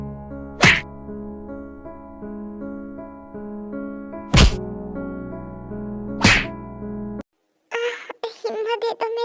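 Three heavy, separate thwacking blows of someone being beaten land at uneven intervals over a sustained musical backdrop, and a voice starts speaking after the music stops.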